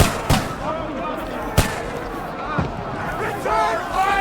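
Battle gunfire in the video game Kingdom Come Deliverance 2: three or four sharp, separate shots crack amid a noisy fight, with shouting voices and battle din underneath.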